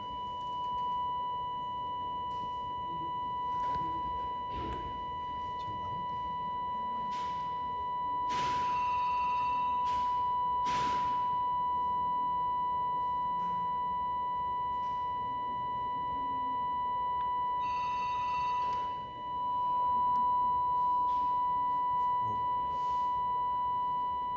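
Test signal on a terrestrial microwave radio receiver during a specification measurement, with a steady tone under a constant bed of hiss and noise and intermittent bursts of crackly distortion, no talk.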